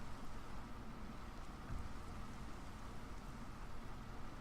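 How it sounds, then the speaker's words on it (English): Steady rainfall in the game Minecraft, a continuous broadband hiss of falling rain with no breaks, even in loudness throughout. "I can really do without the rain."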